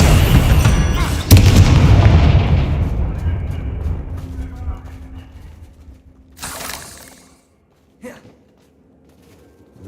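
Confringo, the explosive spell in Hogwarts Legacy, lands as a heavy booming blast with a sharp crack that decays over several seconds, followed by quieter rustles and a short thump near the end; a voice is heard.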